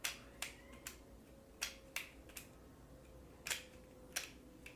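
A Moyu Meilong Pyraminx V2 puzzle clicks sharply as it is turned, giving about ten crisp, close, irregularly spaced clicks over a quiet background.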